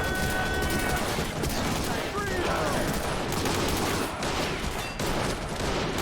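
A dense exchange of gunfire fills a battle in the video game Army Men of War, with loud, continuous rifle and machine-gun bursts and explosions overlapping throughout, all close and unbroken.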